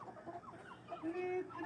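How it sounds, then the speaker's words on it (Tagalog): A rooster clucks close by in a few short, rising calls, with one drawn-out cry near the end, heard alone in a quiet setting. "Yung ibibigay sa akin ni Marcel na ano. Na manok."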